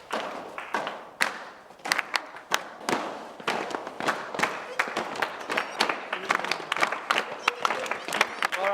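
A group of boys clapping out a beat together, sharp claps repeating in a loose rhythm that grows busier and denser, with some thuds mixed in.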